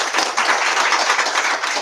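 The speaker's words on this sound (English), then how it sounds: "Can we give Representative Flores another round of applause?" An audience at a youth congress summit gives Representative Flores a round of applause, dense and continuous clapping from many hands, close and loud, with no talk over it.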